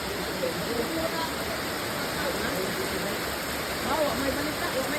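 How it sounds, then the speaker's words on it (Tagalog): Heavy rain pours down steadily in a dense, even hiss of falling water at moderate volume, with no distinct breaks across the stretch. "Lakas ng ulan."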